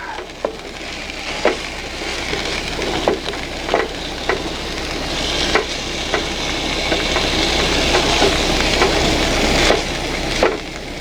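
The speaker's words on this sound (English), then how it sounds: "I'll bring you back when all the meat's been browned" Lamb and beef mince browning in a hot pan, a steady sizzle broken by repeated scraping knocks as the meat is broken up and stirred.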